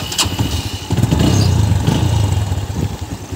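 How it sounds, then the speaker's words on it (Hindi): A motorcycle on a village farm being started: a short starter burst, then the engine catches into a low, uneven idle, close and moderately loud with no talk. "फटाफट से बाइक को स्टार्ट करते हैं और चलते हैं।"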